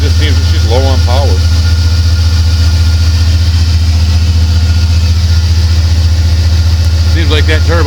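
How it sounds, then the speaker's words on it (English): A 1987 Buick Regal fitted with a turbocharged 5.3 LS engine and 4L80E transmission idles steadily at close range, a loud constant low rumble, with a voice speaking over it near the start and end. "Seems like that turbo, even at idle, should be spinning way more than that."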